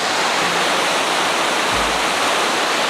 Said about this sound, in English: You can see the falls back there behind me real quick